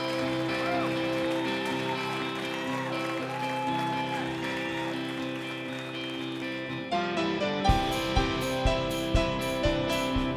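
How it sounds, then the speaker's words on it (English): Audience applause for a band at the 1200 Club, a steady wash of clapping that builds, then gives way to rhythmic thumps and a livelier rise near the end. "Give them a round of applause."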